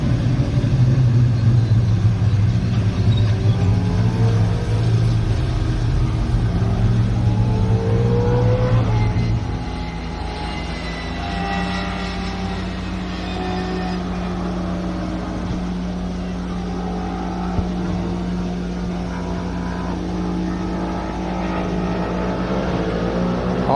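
A Triple Eight V8 Supercar engine at a Queensland Raceway test day, loud deep rumbling burble that drops to a lower, steady gurgling idle partway through, with faint revving swells, heard close.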